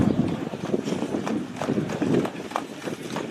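Hooves of a 9-year-old American Saddlebred gelding being led into a sale ring, a continuous busy patter of steps on a hard surface amid crowd murmur and room noise.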